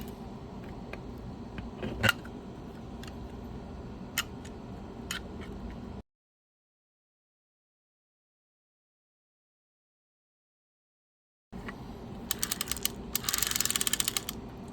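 Screws being driven into a Penn Senator 114H fishing reel: faint close clicks and small metallic ticks from a hand tool, a quiet pause, then a brighter cluster of rapid ticking near the end.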